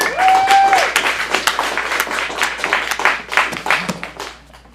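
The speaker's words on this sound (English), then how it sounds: "Let's give them a big round of applause." Live theater audience at an acting studio showcase in Phoenix breaks into loud, sustained applause, dense clapping that swells at first and then gradually thins and fades over nearly five seconds, with some faint crowd voices mixed in.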